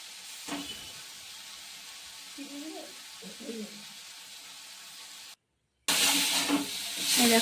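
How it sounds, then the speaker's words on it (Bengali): Spices and potatoes sizzle steadily in hot oil as they are fried down in a home kitchen, with a brief silent gap and a louder burst of frying afterward; faint voices come through briefly. "এই দেখো, আলুগুলোকে দিয়ে মশলাটা পুরো কষিয়ে নিয়েছিল।"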